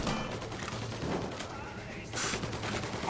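Rapid gunfire bursts from a first-person shooter video game, continuous shots under a steady game soundscape with a brief louder burst near the end.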